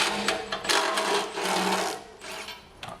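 A Carbon Off-Road 15K TANK winch on a Prado spools out its line with a steady, close electric-motor whir that rises and dips with the load, running continuously for about three seconds with no talking.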